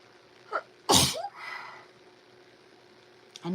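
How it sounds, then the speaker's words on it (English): A single loud, close sneeze with a sharp burst, preceded by a quick intake of breath and followed by a soft exhale in a quiet room. "I'm gonna sneeze."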